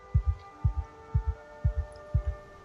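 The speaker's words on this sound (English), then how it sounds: "The heart SFX make me feel kind of sick." Heartbeat effect from a video game, a steady lub-dub pulse repeating about every half second, each beat a double thump, heard alone over a faint electronic hum.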